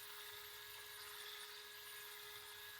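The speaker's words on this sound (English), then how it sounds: "So they send you a little tool, you hook it on the drill, and we just kind of mix it around." A power drill with a mixing attachment spins steadily while stirring a can of swimming pool paint, a faint, constant high-pitched whine with no pauses and no talking.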